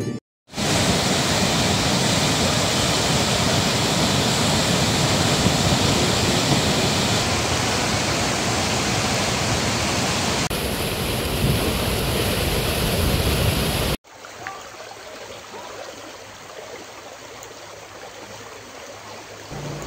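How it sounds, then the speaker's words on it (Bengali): Loud, steady roar of a river in Birbhum, India, swollen by continuous rain, rushing past, continuous and broadband, then dropping abruptly to a quieter, distant flow near the end. "একটানা বৃষ্টির জেরে বীরভূম জেলার নদ নদীগুলো ফুলে ফেটে উঠেছে"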